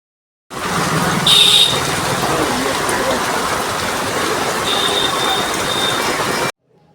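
Steady rain pours down in Asansol during Durga Puja in a dense, continuous wash of hiss, loud and close, with a brief brighter spattering burst near the start.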